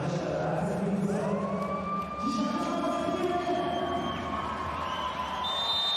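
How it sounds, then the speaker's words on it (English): A wailing siren rises and falls over a busy arena crowd at a men's volleyball Olympic qualifier between Italy and Australia, its sweeping tones sliding up and down against the constant murmur. "The sirens going off again every time Australia come in to serve."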